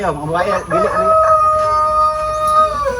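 Roosters crow loudly and close at a chicken farm in the Philippines, their drawn-out calls overlapping with clucking hens as someone speaks nearby.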